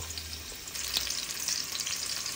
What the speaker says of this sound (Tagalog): At pagkatapos yan, tayo magigisa ng sibuyas.